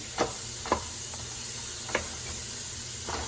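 Butter sizzles in a frying pan with cabbage, a soft steady frying hiss broken by a few sharp stirring scrapes and taps.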